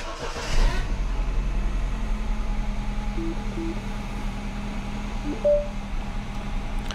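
A car engine cranks and fires, then settles into a rough, uneven idle with ignition misfires on cylinder 3 and other cylinders, close and steady throughout.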